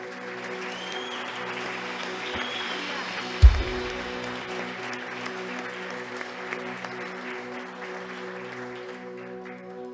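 Church congregation applauding during a service, a steady wash of clapping with a sustained musical drone underneath, moderately distant, with one sharp thump partway through.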